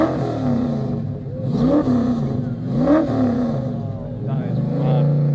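At the 2022 Lytham car show, a Morgan Aero's engine idles and then rises in two quick revving blips, each swelling and falling back, heard close amid outdoor show ambience.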